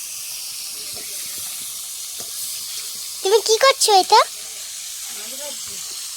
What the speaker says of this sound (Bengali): এদিকে মাছগুলো ভেজে নিচ্ছি